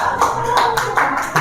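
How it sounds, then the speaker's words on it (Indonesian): Clapping for the first group at an Islamic communication ethics class presentation, a handful of hands beating in short uneven bursts, close and fairly loud, with faint voices underneath. "Tepuk tangan untuk kelompok"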